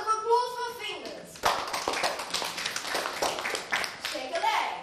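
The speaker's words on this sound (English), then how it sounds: "A round of applause for Fingers!" Clapping from the audience at a school leavers' show, following a spoken line, with steady applause and voices over the top.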